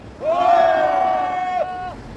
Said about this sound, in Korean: 우리 모두 격한 힘찬 함성을 부탁드립니다.